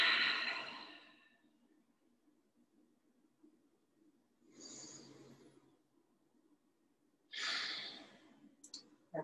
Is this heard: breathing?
yes